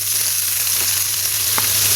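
A loud, steady sizzle of beans frying in hot oil with mustard seeds fills the clip, with a faint scrape of stirring and a small pop near the end.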